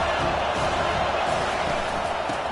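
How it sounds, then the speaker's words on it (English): Stadium crowd noise from a Madden/NCAA 25 football video game, a loud, continuous roar of many voices with no distinct breaks. "This crowd bringing the energy and noise early."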